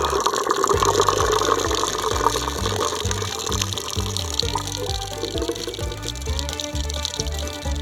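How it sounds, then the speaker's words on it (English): Pink antifreeze and water flush out of the plumbing of a Roadtrek Zion RV in a loud, steady rushing pour that runs the whole time, with music playing underneath. "I'm going to let all this pink stuff flush out."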